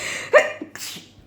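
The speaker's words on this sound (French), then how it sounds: "Je vais encore éternuer parce que ça me fait putain d'éternuer la litière." A single close sneeze from a person set off by dust from rabbit litter, a sharp burst followed by a softer breathy exhale.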